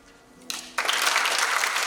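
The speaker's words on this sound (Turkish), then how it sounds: "Alkışlar genç kızın meclis Azra Özbak için" Applause from the audience at a municipal literary gathering where a young writer meets a veteran author, starting sparse and swelling into steady clapping for the last second.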